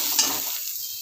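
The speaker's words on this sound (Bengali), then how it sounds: "এবার আমি শাকটাকে একটু ভালো করে ভাজা ভাজা করে নেব।" Mustard greens frying and being stirred in a pan give a brief, close hiss and scrape that fades quickly, with no voices.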